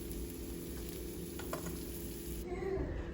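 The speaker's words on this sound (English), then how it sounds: "garlic is sauteed" Garlic sautéing in olive oil in a pan gives a steady, close sizzle that shifts and softens slightly near the end, with no talk.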